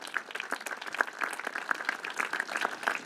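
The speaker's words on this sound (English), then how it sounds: "Please give him a hand of applause." Audience applause following a councillor's introduction at a Leeds blue plaque unveiling ceremony, moderately loud dense clapping from a crowd sustained throughout, with no talk over it.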